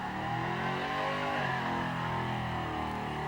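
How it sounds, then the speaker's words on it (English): A car engine revs hard and continuously in a loud, sustained roar during a burnout competition at Summernats car festival, with no voices over it. "but gee, he does a good burnout."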